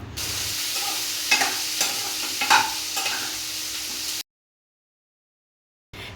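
Sliced onions with dried red chillies and green chillies sautéing in a pan for tomato chutney: a loud, close, steady sizzle with a few spoon scrapes and clinks, cutting off abruptly into silence before a brief return.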